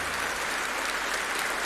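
Sustained applause from a live audience at a Saturday night variety show in Scotland's Auld Meal Mill, following a sung performance, dense and steady for the whole stretch before cutting off at the end.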